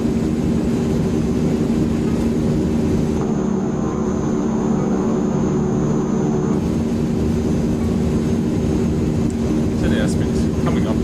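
Airliner jet engines roar at takeoff power in Microsoft Flight Simulator 2020, a steady, loud, broad rumble that holds throughout with a faint high whine on top.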